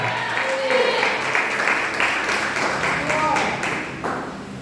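A church congregation applauds during a family worship service, a dense sustained patter of clapping throughout, with a voice speaking over part of it.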